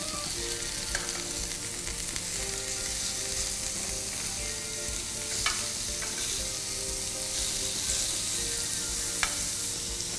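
Thin slices of pork sizzle in a hot pan, a loud, dense and unbroken frying hiss close by with occasional small pops, and no voices.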